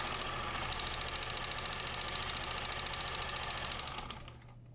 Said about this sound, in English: this sucker's gonna sew. But it is making some noise